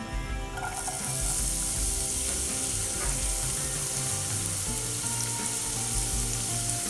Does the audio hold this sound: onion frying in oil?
yes